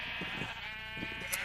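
Sheep in the Minecraft video game bleat in a few short, clear, close cries, one after another with brief gaps, alone without any talk.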